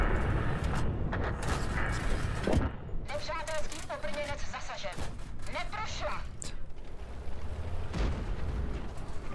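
Tank cannon shots and shell impacts in the World of Tanks video game, several loud booming bursts spread across the stretch under a steady game soundscape, with someone talking over much of it.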